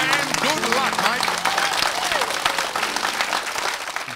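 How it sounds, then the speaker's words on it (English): A karaoke crowd applauds a singer steadily, with dense clapping carrying throughout and voices talking over the top. "A big round of applause."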